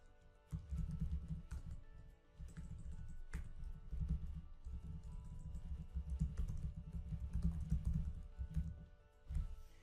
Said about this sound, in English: So I can just go in and type that.